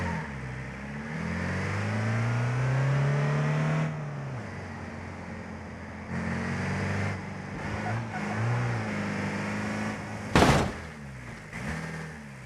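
Engine revving and vehicle noise in BeamNG Drive during a modded van crash test, rising and falling over about twelve seconds, with a sharp loud impact burst near the end.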